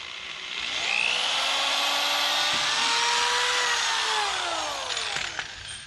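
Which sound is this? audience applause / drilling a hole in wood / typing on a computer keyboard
drilling a hole in wood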